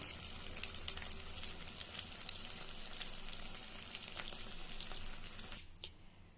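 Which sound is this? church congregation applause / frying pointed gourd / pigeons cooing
frying pointed gourd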